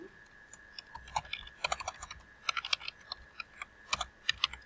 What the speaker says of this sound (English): So I'm just going to go ahead and type all this in.